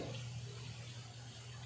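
An automatic washing machine draining its water after a rinse, giving a steady low rushing flow with a constant hum, even and unbroken throughout at a fairly faint level.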